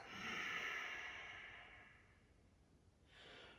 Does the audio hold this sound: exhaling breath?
yes